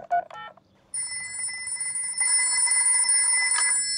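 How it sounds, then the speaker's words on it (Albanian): In a Peppa Pig cartoon, a short character voice is followed by a telephone's steady electronic ringing tone that grows louder and continues to the end. "Po i telefonoj gjysit qenush."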